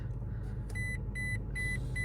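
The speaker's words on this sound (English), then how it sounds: "It's going to beep and beep." A Ford Bronco chimes with a series of short, evenly spaced electronic beeps over a low engine rumble while shifting into four-wheel high off-road.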